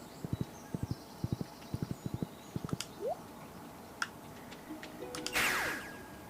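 Horse hooves clip-clop in Stardew Valley, summoned by the horse flute from Ginger Island: a steady run of close, crisp hoof taps, then a short whinny and a swelling sparkly effect at the end.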